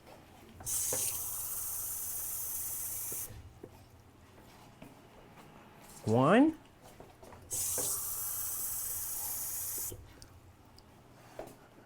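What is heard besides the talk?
pouring 2 cups of water into pot of rice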